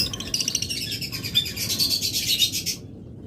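Pet lovebirds or budgerigars, double-factor birds kept in a pair, chirp in a rapid, busy run of high tweets close by, stopping near the end with no one talking.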